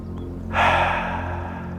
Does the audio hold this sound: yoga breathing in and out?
yes